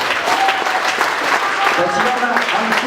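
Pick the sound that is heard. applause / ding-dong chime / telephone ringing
applause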